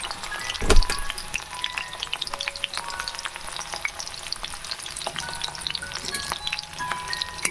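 Capsicum dropped into hot oil in a pan while cooking vegetable chow mein: a loud burst of crackling sizzle at the start, then steady close frying hiss with scattered pops and spatters throughout.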